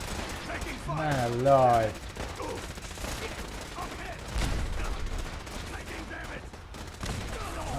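Rapid bursts of gunfire in the video game Fallout 4, loud and close with layered shots, mixed with in-game music and sound effects while someone talks over the action.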